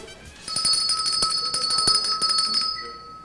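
A ringing bell is struck repeatedly at the Brooklyn Cafe during a live stream, a quick run of bright metallic strikes that ring on briefly, then fade.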